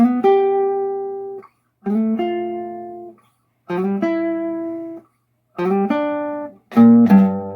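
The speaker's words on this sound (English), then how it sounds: "we have to learn that really famous intro in the beginning" Electric guitar playing the famous intro riff of a song, five short bursts of ringing strummed and picked notes separated by brief gaps, close and clear with no talking.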